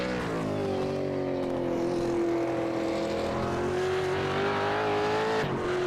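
A V8 Supercar in a sim racing game accelerates onto the straight at Bathurst: a loud, steady engine drone rising in pitch through the gears, close and continuous, ending with a brief shift dip.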